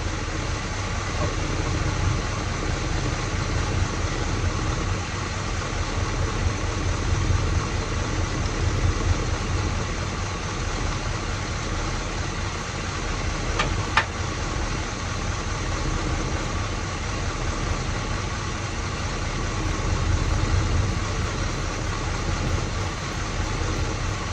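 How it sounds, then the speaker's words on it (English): A 1979 Pontiac Firebird engine idles steadily, a continuous low rumble with an even drone, heard close with no talk over it. "Right there to me sounds like the best that it's idled at."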